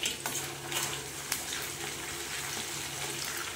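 Ginger garlic paste fries in a large amount of hot oil, giving a steady, faint sizzle and hiss with a few small clicks from stirring, and no voices.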